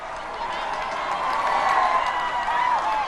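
A gathered press crowd cheers and claps as a newborn royal baby is presented, producing a steady, moderately loud wash of applause and voices that swells slightly midway and carries mixed talk within it.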